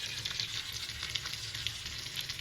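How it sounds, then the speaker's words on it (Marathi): Bangda mackerel fish fries in a pan with a steady, close sizzle and fine crackling spits of oil, continuous and moderately loud with no talking. "मस्त फ्राय झाली आहे फिश"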